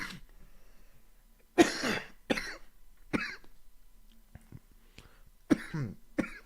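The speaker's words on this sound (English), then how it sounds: "Coughing like that" Several separate harsh coughs and throat clearings, close and fairly loud, break through in irregular bursts with quiet breathing between them.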